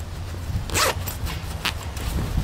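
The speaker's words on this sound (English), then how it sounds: "shoulder pocket, that's zippered." The zipper on a Propper TAC.U combat shirt's shoulder pocket is pulled in a few quick, close rasping strokes, one longer zip followed by shorter ones.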